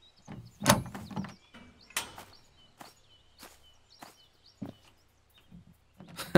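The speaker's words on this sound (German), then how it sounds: "Einfach so eine Tür aufknacken" A door is forced open in the Thief Simulator 2 game: a sparse series of separate clicks, knocks and short scraping thuds with quiet gaps between them, and no talking.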